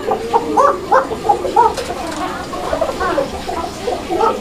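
Pigeons coo at a fancy pigeon sale, a series of soft, low, rounded coos repeating close by with a faint murmur of people in the background.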